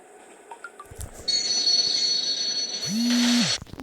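A train rolls past in a train video game, bringing a rising rush of noise and a brief wheel squeal, with hissing sounds before it against a quiet background.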